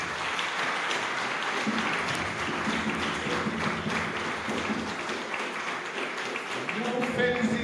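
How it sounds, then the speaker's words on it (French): Sustained crowd applause after a lecture on a Congolese nationality law, continuous and even at middle distance, with voices faintly audible beneath the clapping. "Une fois de plus, vos applaudissements nourris"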